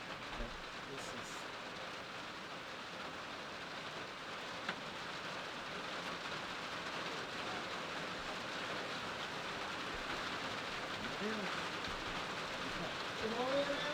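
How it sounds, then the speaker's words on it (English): Steady rain falls outside during a pottery kiln firing in Seagrove, a continuous even hiss that swells slightly near the end, with faint distant rumbles. "Come on in and out of the rain, Joe."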